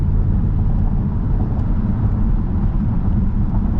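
A deep, steady SRT Jeep engine rumble with the mid muffler deleted drones on without a break, loud and close, with a rough low-end growl throughout.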